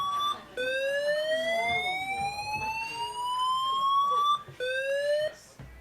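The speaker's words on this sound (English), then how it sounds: "now it's a siren in the building" A loud siren tone sweeps slowly upward, cutting out briefly twice and resuming, echoing as if indoors.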